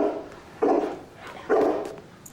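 A dog gives two short barks about a second apart, moderately close and fairly quiet, with no talk over them.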